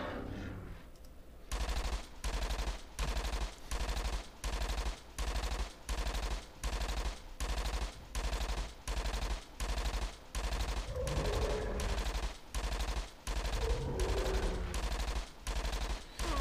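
Sustained automatic gunfire from a video game hunting session, delivered in steady repeated bursts of rapid shots roughly every half second, loud and close throughout with occasional extra game effects underneath.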